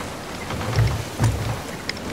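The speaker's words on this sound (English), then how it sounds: "Into the storm." A thunderstorm in the pirate video game Sea of Thieves, with steady rain hiss and two deep rumbling thunder swells, close and fairly loud, with no voices.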